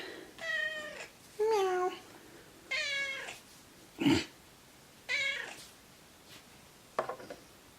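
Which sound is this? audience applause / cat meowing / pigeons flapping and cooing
cat meowing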